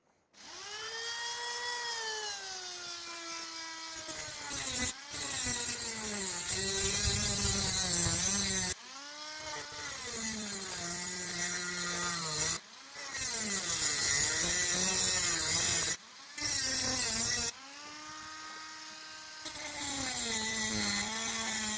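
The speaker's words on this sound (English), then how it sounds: "might as well just use the cut-off wheel" An angle grinder with a cut-off wheel slicing through metal, a loud whining scream that sags and recovers in pitch under load, broken by several short pauses between cuts over about twenty seconds.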